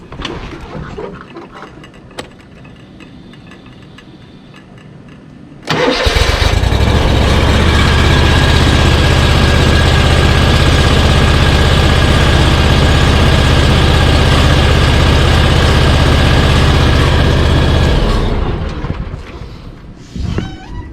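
A lawn mower engine cranks and roars to life after a quiet start, then runs loud and steady at idle for about twelve seconds before cutting off.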